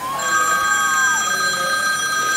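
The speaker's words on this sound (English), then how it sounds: "The league are ringing me now for a quote off Mr. Moore." A telephone bell rings loudly and close by in a football club setting after a match, a sustained electronic ring with steady tones and no talk over it.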